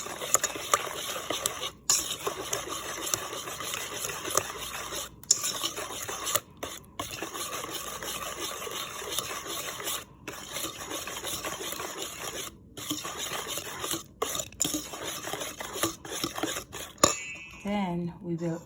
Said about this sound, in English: we're also going to add our half cup vegetable oil. Then we're going to mix together.